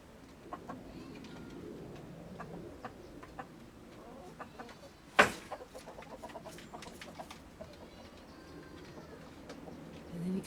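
Hens and a rooster cluck softly at a distance in a quiet yard, with scattered faint clucks and pecking ticks and one sharper sound near the middle.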